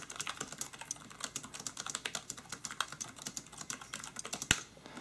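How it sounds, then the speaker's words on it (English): Steady typing on a Kolude KeyHub non-mechanical all-in-one keyboard with USB hub, a quiet run of soft, fairly close keystroke clacks at an even pace, ending with one sharper, louder hit. "the overall keyboard is going to be a lot more quiet than mechanical, but still has a little bit of a satisfying clack to it"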